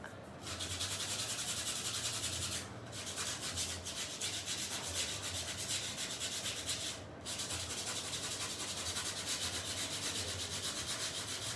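Sandpaper rubs back and forth over chalk-painted wood in a steady, close scratchy swish, continuous with two brief pauses as the hand repositions.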